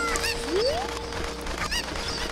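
A chicken in The Legend of Zelda: Ocarina of Time gives a few short clucks and squawks over a steady game background hum, with a quick rising sweep early on.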